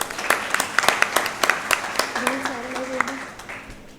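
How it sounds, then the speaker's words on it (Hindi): An audience at a birthday celebration event claps, sharp irregular hand claps building into applause and then fading, with a voice speaking over it. "प्रोत्साहित करें तो जोरदार तालियां बजा के।"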